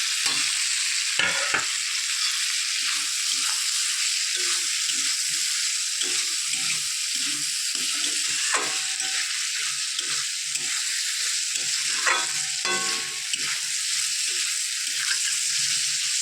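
Mussels and potatoes fry steadily in a pan, a continuous close sizzle with occasional scraping and clinking as a utensil stirs them, no talking.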